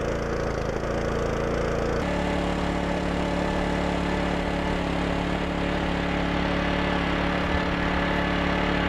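A Honda engine powering a dry washer runs at a steady idle close by, a constant loud drone that shifts slightly in tone after about two seconds and continues unbroken.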